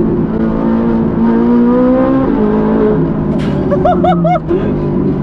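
A Ferrari speeds around a track, its engine droning loudly and steadily with rising and falling pitch as it accelerates, and a brief high whine near the end.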